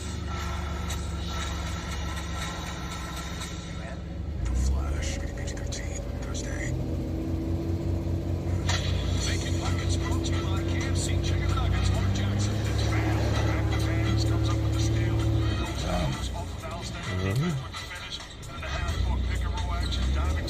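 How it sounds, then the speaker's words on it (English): Ford Escape engine starting and then idling, a low steady rumble continuing close by for most of the stretch with some clattering and handling noise around it. "now we're gonna turn on the car and see what happens"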